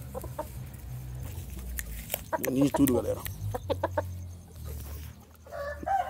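Chickens cluck and a rooster crows in a home setting, with loud crowing bursts in the middle and scattered clucks around it while someone talks over much of the clip.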